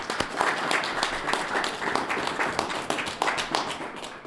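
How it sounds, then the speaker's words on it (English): Applause from a press conference audience for the 2023 Buffalo Golden Gloves, steady dense clapping with sharper individual claps standing out, held at moderate loudness for about four seconds. "Give him a round of applause."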